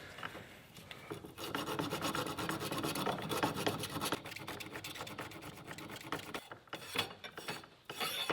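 Metal file or rasp scraping back and forth over the sharp ends of metal spokes on a compact experimental sling bow, a steady, close, continuous rasping with no talk.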